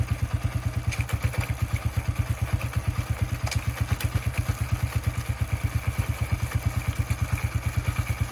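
A dirt bike fitted with an oversized rear sprocket runs with a steady, rapid single-cylinder thump, a close, even pulsing engine beat with faint clatter, holding a constant rhythm throughout.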